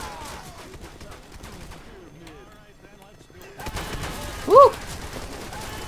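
Rapid gunfire from Left 4 Dead 2, with bursts of shots in a co-op match crackling under players' talk, growing louder toward the end, where one player whoops.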